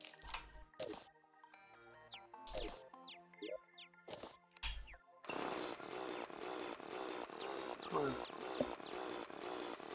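A Vortex Jackhammer Saw weapon whirs in Terraria, a continuous buzzing saw drone filling the last half of the clip after sparse game sound effects, clicks and short whooshes.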